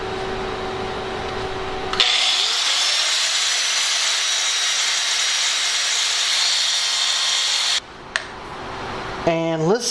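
A half-inch welded steel plate is cut through by a power saw, giving a loud, steady grinding rasp that runs for about six seconds and then stops abruptly, with brief shop noise and a short voice afterward.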